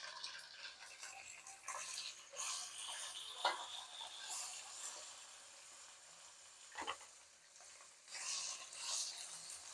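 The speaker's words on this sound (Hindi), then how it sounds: "चिकन को भी फ्राई करेंगे लहसुन के साथ ही।" Chicken pieces cut into cubes frying with garlic in a pan, giving a steady, close sizzle with scattered pops and occasional stirring clicks, and no talking.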